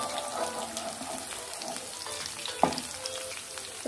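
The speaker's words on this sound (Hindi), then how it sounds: "तो इन दोनों तीनों चीज़ों को हल्का सा फ्राई करने के बाद" Chopped ginger, garlic and a cinnamon stick frying in oil for methi chicken, a steady close sizzle with a light stirring clink partway through.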